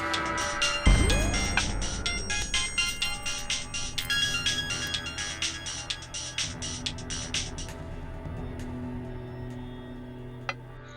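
A phone ringtone for an incoming call sounds in a steady repeating pattern of bright electronic tones, moderately loud and alone, for about ten seconds before stopping.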